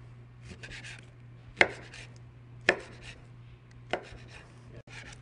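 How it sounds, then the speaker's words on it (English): Knife slicing raw pork into half-inch pieces on a cutting board, four sharp distinct chops spaced about a second apart, close and clear over a quiet steady hum. "I'm going to slice them into pieces about 1/2 inch thick."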